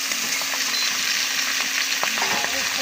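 Pangas fish, a river fish seasoned with salt, chilli and turmeric, sizzles steadily in hot oil, with scattered crackles and the odd stirring scrape, close and even throughout.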